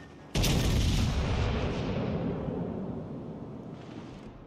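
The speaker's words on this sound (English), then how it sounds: "Fire the guns." Naval guns fire once in the World of Warships Legends video game, a sudden loud boom that rolls into a long, rumbling decay lasting several seconds.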